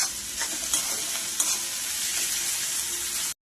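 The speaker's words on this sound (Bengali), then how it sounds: "এবার এটাকেও এর সঙ্গে ভালো করে ভেজে নেব।" Garlic and onion paste fries in a wok for a Bengali prawn dish, giving a steady close sizzle broken by a few sharp stirring scrapes, then cutting to silence at the end.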